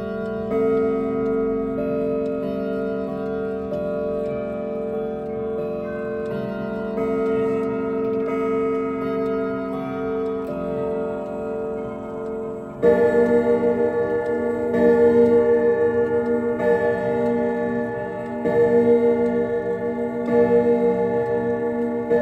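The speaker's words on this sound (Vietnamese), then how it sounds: "Và bây giờ em điểm chuông lại để các bác lắng nghe các bạn nhé." Mid-range grandfather clock with a warm, deep chime, its steady ticking heard first, then a loud melodic strike sequence ringing out with sustained, resonant tones.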